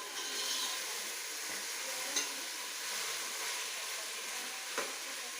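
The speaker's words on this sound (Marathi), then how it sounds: "परतूनच घ्यायचा आहे तो कांदा त्याच्यामध्ये" Onion sautéing in ghee for a mushroom biryani, a soft, steady sizzle with occasional light stirring scrapes, fairly quiet and close.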